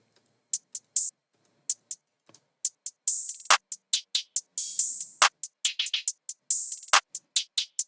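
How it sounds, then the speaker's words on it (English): Crisp, dry claps and tight hi-hat ticks in a steady electronic rhythm, with occasional longer open-hat hisses, alone and clean without any talking. "So the clap hi-hats, open hats, sound like this."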